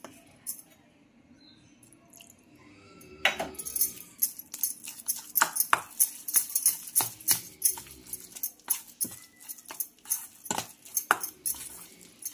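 A spoon stirs baking soda into fermented batter in a bowl, giving repeated close scraping clinks in an uneven rhythm that build up after a quiet start, with no voices.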